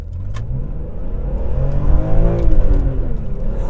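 A BMW E46 M3 straight-six engine revs up strongly toward 8,000 RPM, its pitch climbing steadily to a high wail and then easing slightly, loud and close.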